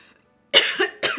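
A sudden burst of harsh coughing after a brief silence, two loud close coughs in quick succession.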